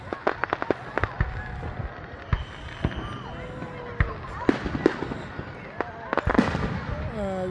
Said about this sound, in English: This is the firework event in Steel